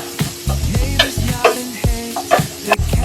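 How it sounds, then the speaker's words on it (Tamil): Onions fry in oil inside a pressure cooker while a spoon stirs them, giving a continuous sizzle broken by repeated scraping strokes, close and fairly loud. "நல்லா ப்ரௌன் கலர்ல நம்ம வதக்கிக்கணும்"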